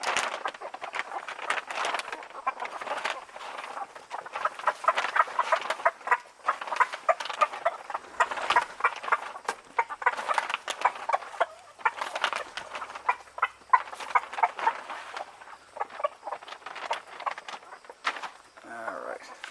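Backyard chickens feeding on mealworms cluck and chatter continuously in a busy, close flock, with people talking over the birds throughout.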